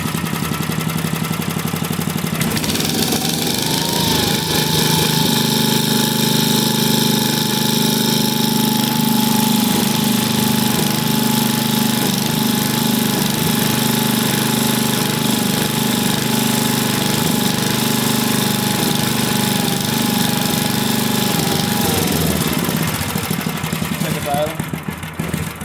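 A free vintage engine runs loud and close with a rapid, rough, hammering rhythm that holds steady for about twenty seconds before dropping off at the end.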